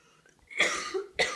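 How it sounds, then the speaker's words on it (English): A person lets out two quick, close coughs about half a second apart, the first longer and breathier, the second short and sharp. "you wait for her to cough"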